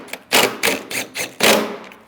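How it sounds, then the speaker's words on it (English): A tool tightens 10mm radiator bolts on a 2016-2025 Chevrolet Malibu 1.5L L4 in a series of about five short, sharp mechanical bursts close by, separated by brief gaps. "Install the 10mm bolts."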